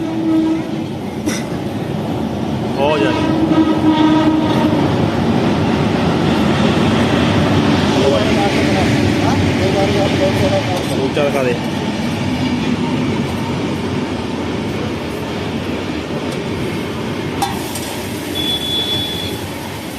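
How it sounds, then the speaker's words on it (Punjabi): A train rumbles past with a steady rolling clatter, loud and close for most of the stretch, while people chat nearby and a brief horn-like tone appears. "ਉਹ ਟ੍ਰੇਨ ਵੀ ਆ ਗਈ ਹੈ"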